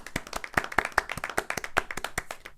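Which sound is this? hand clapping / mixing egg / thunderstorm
hand clapping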